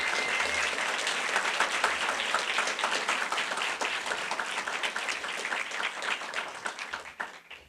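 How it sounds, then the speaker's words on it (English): An audience at a 4-H/Tropicana public speaking contest gives a sustained round of applause for the finalists, dense continuous clapping that holds steady and then thins out and fades near the end. "If I could have another round of applause for all of our contestants this evening."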